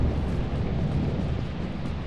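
A deep, sustained rumble of thunder from a lightning strike in the video game Lethal Company, loud and continuous across the whole short stretch.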